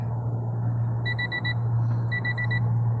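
A worn-out car's warning chime sounds in two short bursts of rapid, high beeps, repeating after a brief pause over a steady low idle hum.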